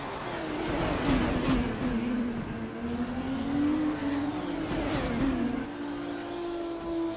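Formula race cars lapping the Montreal Super Prix circuit in a racing video game, engines whining and shifting pitch as several cars hold a steady, continuous drone at moderate distance.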